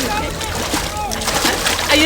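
A man drops into water with a splash amid a busy, noisy comedy-film scene, the watery sloshing mixed under loud voices and background bustle.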